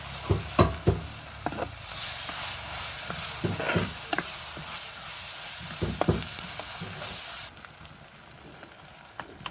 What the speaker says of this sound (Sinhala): ඊට පස්සේ ඒකට රම්පේ කරපිංචා ලුණු සුදු ලුණු ඒ ටිකක් දාලා පොලේම බැදගන්න.